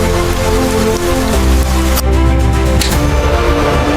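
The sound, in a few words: rain falling, in an animated disaster film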